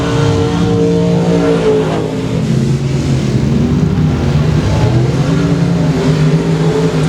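Race cars roar continuously around the track at Sabine Speedway dirt oval, engines revving loudly and overlapping as the field passes, with a steady dense drone throughout.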